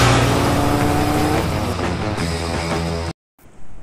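A motorbike cruises at speed on a tour road near Sylhet, its engine drone and wind roar loud and close, briefly cutting out near the end before resuming.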